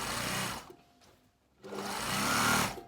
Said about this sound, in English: Needle down, lift the foot and pivot. And we're going to sew down the centre front again